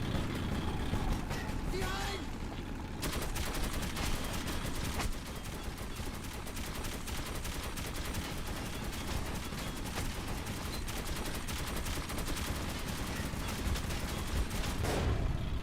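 Video game gunfire, including shooting from a rail-mounted vehicle in a fight against a Panzer, comes as dense, rapid bursts of automatic fire, loud and nearly continuous over about fifteen seconds, mixed with engine rumble and people talking.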